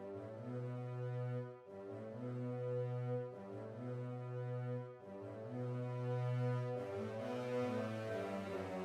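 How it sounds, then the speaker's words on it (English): Sustained, reedy woodwind notes from a trap remix of the Star Wars score, held in long overlapping phrases with brief breaks, steady and fairly full with no voices. "Another section that we ended up adding in here was the woodwinds."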